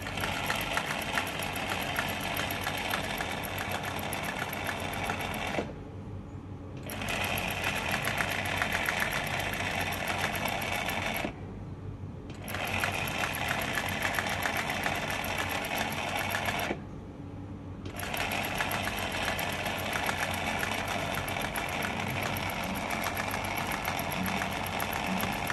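A Singer 107w100 sewing machine stitches eyelet embroidery with a loud, steady mechanical whir, running alone and stopping briefly three times before starting up again.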